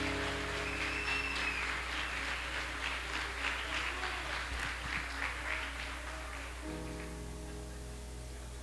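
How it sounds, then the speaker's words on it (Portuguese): A church congregation applauds during a sermon, a steady wash of many hands clapping that runs for several seconds, then thins and fades toward the end. "Quer aplaudir a Lulu? Aplaude."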